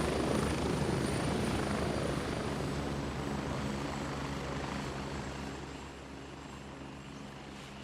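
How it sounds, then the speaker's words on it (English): A helicopter flies overhead in the Gray Zone Warfare jungle video game, its steady rotor drone and engine whine holding a constant buzzing tone that slowly fades a little over several seconds, alone without talk. "I hear everything, that chopper."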